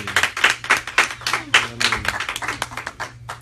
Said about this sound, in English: That's all the clap you got. You clap for that.